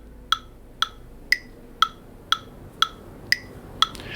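A metronome ticks steadily at about two clicks per second, eight sharp, close ticks in a row, with the first beat of each bar given a slightly different, accented click.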